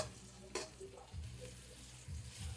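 Garlic sizzles softly in a pan for beef sinigang, with one sharp scrape of stirring near the start and a faint frying hiss underneath. Low thumps come and go, and no one speaks.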